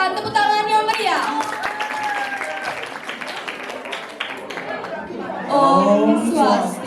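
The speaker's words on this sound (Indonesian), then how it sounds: "berikan tepuk tangan yang meriah" Applause and cheering from a school class audience for the first group at a Grade 12 class theatre performance, sustained clapping mixed with crowd chatter and voices.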